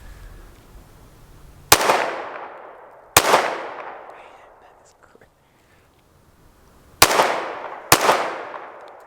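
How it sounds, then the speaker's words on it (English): Four sharp, loud Springfield Hellcat RDP pistol shots crack close by, spaced irregularly with longer gaps, each followed by a ringing decay of echo. "I'm gonna shoot kind of rapid here just to see how it drops back down."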